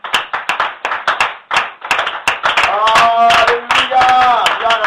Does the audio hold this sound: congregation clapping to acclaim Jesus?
yes